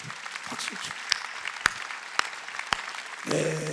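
A church congregation at a Sunday worship service claps in a scattered, moderate-volume patter with a few sharp louder claps standing out, and a voice comes in at the end.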